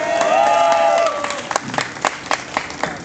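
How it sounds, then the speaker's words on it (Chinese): Applause for newlyweds at a wedding, scattered claps and crowd cheering that begin under a voice and thin into irregular individual claps. "新婚，再给他热烈的掌声好"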